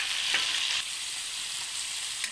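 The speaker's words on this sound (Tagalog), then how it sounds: "Igisa natin mabuti yung kamatis." Tomatoes sautéing with onion and ginger in a hot pan, a steady close sizzle and crackle with faint stirring scrapes running throughout.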